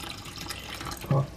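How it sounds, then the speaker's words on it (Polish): A little water poured into canned tomatoes in a pot at home while making vegetarian lasagne, a brief splash near the end over a quiet kitchen background. "I dodaję też odrobinę wody."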